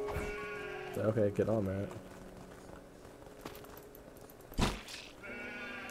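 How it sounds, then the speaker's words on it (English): Sheep in the Craftopia game let out a couple of wavering bleats, then another bleat follows later, close and clear, with someone speaking briefly between the calls. "Why are there so many sheep in our area?"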